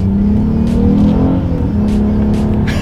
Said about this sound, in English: Let's do a quick little acceleration without the paddle shifters, and let's see how quickly we can get the 2020 TLX with the V6 up to speed.